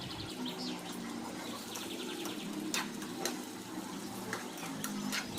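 Onions frying in hot oil for a Hindi home recipe, a steady crackling sizzle with occasional sharper pops and clinks, close and continuous with no talk over it.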